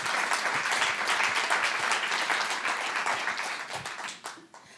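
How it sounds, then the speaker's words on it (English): Steady audience applause for a lecturer at a Black History Month lecture, a dense wash of many hands clapping that fades out near the end. "let's give him another round of applause"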